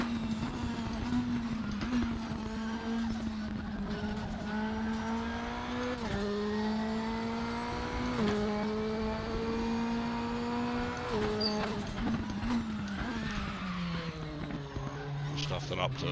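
A Radical prototype race car in the Raceroom racing game laps the Daytona road course, its engine droning loudly and continuously with rising pitch sweeps and sharp drops at each upshift, a voice talking over it throughout.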